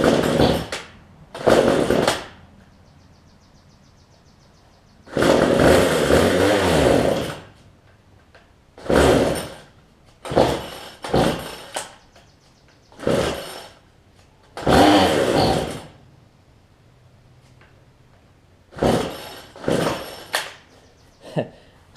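A cheap gas weed eater engine fires in repeated loud bursts, revving hard for a second or two and then cutting out, with short quiet gaps between the cranking attempts.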